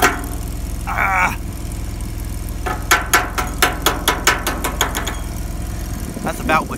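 A chipping hammer knocks slag off a weld on a trailer repair, sounding as about a dozen sharp metallic raps in a quick irregular burst. It plays over a low idling engine hum, with a short voice at the start and near the end.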